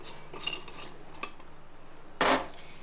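A spoon mixes an egg and raw prawn batter seasoned with coriander powder in a bowl, with a few light clinks against the bowl and one louder scraping burst near the end.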